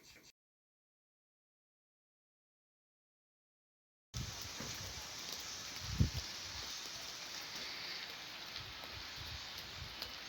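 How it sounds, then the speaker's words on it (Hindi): Steady rain falls outdoors, a constant broadband hiss after a stretch of near silence, with one brief louder thump partway through. "अभी मैं वहीं पर थी तो साथ ही जो थी बारिश स्टार्ट हो गई"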